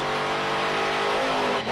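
Monster truck engine at a Monster Jam freestyle event in Atlanta, held at high throttle to keep the tires spinning, a loud continuous roar that stays steady and dense throughout with no voices.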